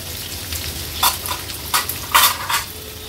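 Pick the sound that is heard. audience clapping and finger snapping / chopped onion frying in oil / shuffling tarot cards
chopped onion frying in oil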